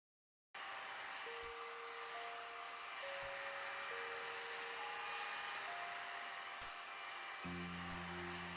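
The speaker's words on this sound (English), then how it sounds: "we get to listen to the hairdryer" A hair dryer in a video game blows in a steady, loud rushing whir, joined by faint electronic tones and a few soft clicks.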